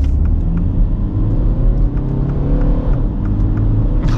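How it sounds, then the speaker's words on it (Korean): Mini Countryman facelift diesel engine revving hard under acceleration from low speed, a loud close rumbling drone whose pitch climbs steadily as the revs rise, heard from inside the car with no talk. "알피엠 치솟는 소리가 너무 들리는데 이거."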